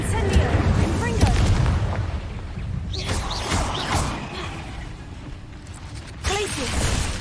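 Spell blasts and booming explosions from the Confringo fire spell ring out in a cave during Hogwarts Legacy combat, several hits over rumbling noise, mixed with shouted spell names.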